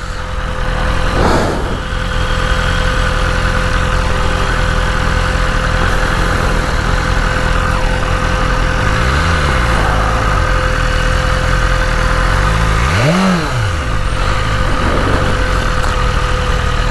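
A Jeep engine idles steadily nearby with a constant low rumble and a faint tonal hum, with a couple of brief swelling whooshes passing by.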